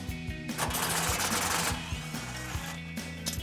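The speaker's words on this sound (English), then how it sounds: "I'm going to use a 13mm swivel socket just to give myself a little bit more access" A ratchet with a 13mm swivel socket works loose an exhaust bolt under a 2019-2023 Ranger, giving a steady run of rapid close clicks and rubbing metal for a few seconds.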